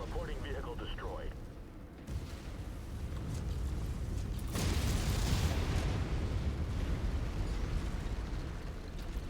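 Vehicle blowing up in the MechWarrior 5 video game, a deep rumbling explosion swelling midway through amid continuous battle noise, with a brief voice at the start.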